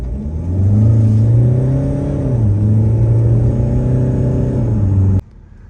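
A Mahindra car pulls hard from a standstill on a 0 to 100 run, its engine note rising loud and steady with a brief dip in pitch mid-run before cutting off abruptly near the end.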